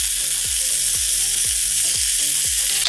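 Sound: chicken pieces searing in hot oil in a pot

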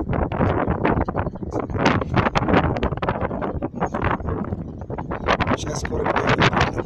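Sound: wind

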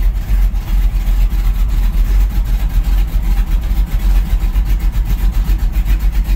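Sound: car engine idling in gear at about 600 rpm

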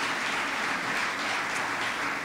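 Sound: audience applause in a theater

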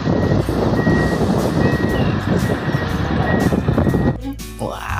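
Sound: toy dump truck reversing beeps

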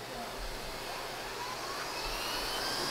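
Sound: Lindhaus HF6 vacuum cleaner running on soft carpet

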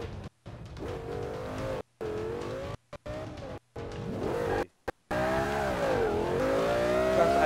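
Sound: car driving and tire squeal in Forza 5 video game

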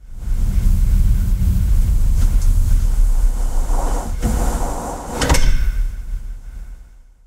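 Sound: huge anechoic chamber door being shut

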